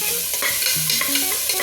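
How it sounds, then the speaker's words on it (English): Vegetables including capsicum sizzle in a hot pan while a utensil scrapes and stirs them, giving a loud continuous hiss broken by short scraping strokes, during khichdi cooking. "Give it a stir."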